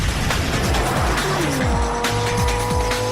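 Lamborghini Murcielago LP640 sports car with a massive 640-horsepower engine, loud close revving with rising and falling pitch sweeps, gear shifts and tire squeal.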